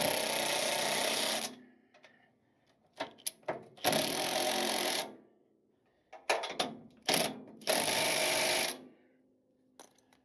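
Bursts of rapid ratcheting from a wrench snugging bolts on a 1956 Chevy truck, several runs of a second or so separated by quiet pauses and short clicks, close and crisp.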